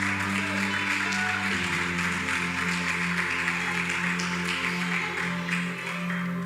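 A church congregation claps steadily through a worship service, the applause blending with sustained keyboard chords that play underneath.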